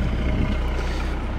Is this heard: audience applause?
no